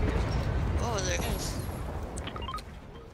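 A loud, rumbling blast roars through a Fortnite game scene, followed by crackling debris and sharp bursts, with chatter audible underneath.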